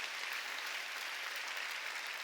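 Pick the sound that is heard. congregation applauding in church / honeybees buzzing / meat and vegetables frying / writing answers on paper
congregation applauding in church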